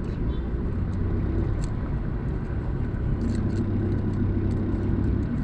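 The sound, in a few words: road traffic on EDSA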